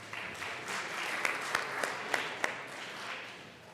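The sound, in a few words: applause in Colorado House legislative chamber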